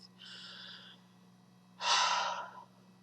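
A person takes a deep breath during a maths lesson: a soft inhale followed after a pause by a louder, breathy exhale, close and quiet over a faint steady hum.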